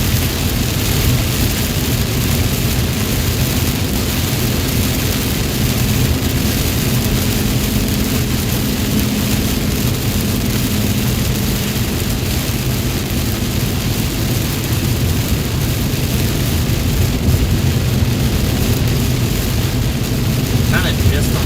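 Heavy rain pours during a thunderstorm in North Texas near McKinney, heard from a moving vehicle as a loud steady roar with road and engine rumble underneath.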